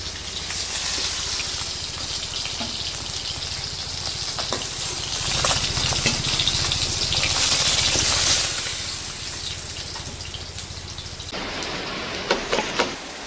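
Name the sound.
water poured into pan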